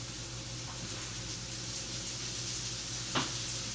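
Gentle, steady sizzle of cubed butternut squash and sweet potato frying with bacon and onion in a pan, with a single soft clink of a utensil near the end.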